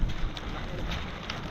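Strong wind buffets the microphone in a steady low roar, loud and close, with no voices.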